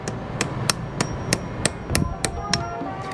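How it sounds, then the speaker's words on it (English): A hammer strikes a flathead screwdriver to unstake a nut tab on a Yamaha FZ6R motorcycle, giving about ten sharp metallic taps at a steady, unhurried rhythm, close and alone. "we're going to unstake just with a flathead screwdriver and a hammer"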